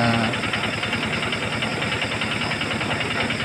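Motor of a corn sheller running steadily, a loud rough mechanical drone with rapid knocking pulses that holds constant for the whole short stretch.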